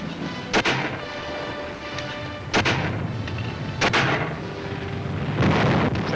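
Sharp bursts of gunfire and heavy artillery thuds aimed at enemy gun positions in the hills during the Battle of Anguar Island, four loud separate reports spaced a second or more apart over a rumbling background.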